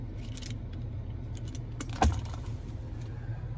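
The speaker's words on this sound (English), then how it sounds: "here we have the key fob with remote start" Keys on the remote-start key fob of a 2024 Chevy Silverado 2500HD LTZ jangle in short bursts, with one sharper clink midway, close by over a steady low hum.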